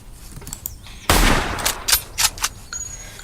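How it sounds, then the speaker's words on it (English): A Russian bolt-action battle rifle from a video game mod fires one loud, sharp shot that rings out, followed by several quicker bursts and mechanical clicks, close and with no talk. "Russian battle rifle chambered in Mauser Nagant ammunition. It's a bolt action, and this is the latest weapon from the mod."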